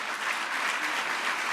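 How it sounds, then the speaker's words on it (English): Steady, dense applause from a large audience at a mayor's State of the City address, honoring school principals and students, a continuous wash of clapping heard from a distance with no voices over it. "Can we just give them a round of applause?"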